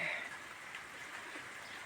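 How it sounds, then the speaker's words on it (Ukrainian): Light, cold drizzle falls outdoors in northerly wind, a faint, steady soft patter and hiss of fine rain, with no talking. "Щось моросить почало оце тільки."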